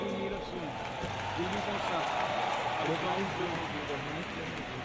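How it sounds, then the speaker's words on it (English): A large audience at a Save Soil event in Delhi gives a continuous roar of applause with a steady, rain-like texture, and voices carry faintly through it. "Big round of applause for Mohit ji."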